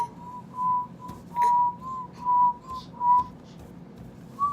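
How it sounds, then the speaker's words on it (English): A baby whistles in a series of short, high, steady notes, about six or seven brief whistles spaced evenly over a few seconds, close and fairly soft, with low room noise underneath. "She just whistled."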